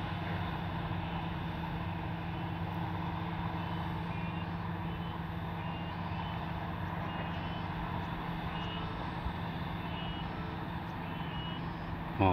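Bulldozer working at a toll road construction site in Sumatra, a continuous heavy diesel rumble with steady repeated reversing beeps, moderately distant and unbroken throughout.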